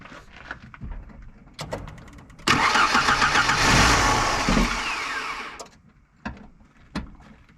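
A 2.3 Lima four-cylinder swapped into a Ford Pinto wagon cranks and catches, roaring loudly for a few seconds before dying down, with scattered clicks and knocks around the start attempt.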